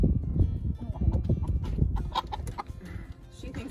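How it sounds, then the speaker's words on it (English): A laying hen clucks close by in a busy run of low, agitated clucks, with rustling movement and a few sharper calls toward the end. "She is one of our sweet laying hens."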